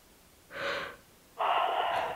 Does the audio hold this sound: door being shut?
no